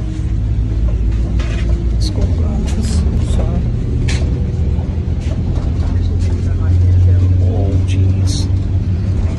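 Interior rumble of a Go North West Wright Streetline bus on the move, a steady low engine drone throughout, with people talking briefly over it and a few clanks and rattles.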